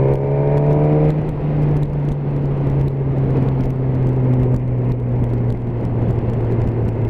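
Suzuki GSX-S 1000 motorcycle engine on a road test, holding a steady, smooth drone that eases slightly in pitch after a brief higher rev at the start, loud and continuous with road and wind rumble underneath.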